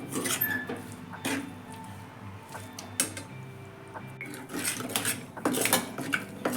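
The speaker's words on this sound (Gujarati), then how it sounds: "ગોળ ઓગળે ત્યાં સુધી આપણે એને સતત હલાવતા રહીશું" Chopped jaggery melting in a pan is stirred continuously, with a utensil repeatedly scraping and clinking against the metal, close and fairly quiet, with no voices.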